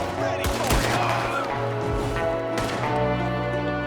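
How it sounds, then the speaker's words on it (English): Gunfire in the Red Dead Redemption 2 video game, sharp shots ringing out amid a dense, loud game soundscape with a steady low drone, a few distinct cracks standing out over continuous background noise. "You have to reload the weapon each time after each shot."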